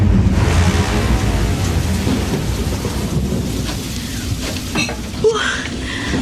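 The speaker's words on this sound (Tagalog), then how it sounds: "Ang lakas ng ulan! Grabe!" Heavy rain pours in a dense, loud, steady roar with deep thunder rumbling underneath, the downpour thinning slightly toward the end.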